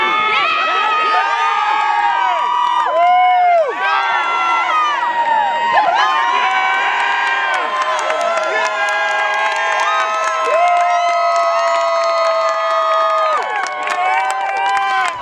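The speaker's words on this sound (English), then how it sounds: "In this next video, you'll see the hypeness of the crowd." A Renaissance fair crowd roars and cheers through a team competition event, loud and continuous, with shouted voices, whoops and excited yelling layered densely over one another throughout.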